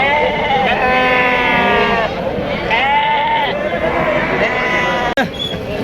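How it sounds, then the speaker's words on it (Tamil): Several sheep and lambs, Mayilambadi and Mecheri breeds, bleat loudly and repeatedly at the Samayapuram goat market in Trichy, overlapping wavering cries close by, with a steady murmur of background noise throughout. "மயிலம்பாடி மற்றும் மைச்சேரி செம்மறிக்குட்டிகள்"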